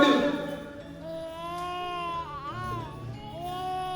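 Infant crying during a staged theater play of the Sangkuriang legend, a wailing, sobbing cry with rising and falling pitch, sustained for several seconds, close and fairly loud with no talk over it.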